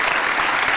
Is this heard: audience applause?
yes